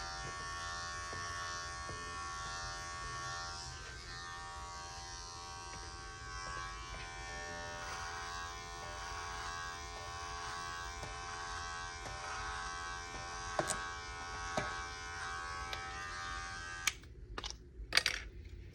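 An electric hair clipper fitted with a 1.5 guard trims a man's beard, running downward with the hair growth. Its steady, close buzz holds for most of the stretch, and a few brief clicks and knocks come near the end.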